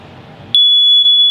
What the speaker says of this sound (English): you should check it by pressing this button, and it's going to make a really loud beep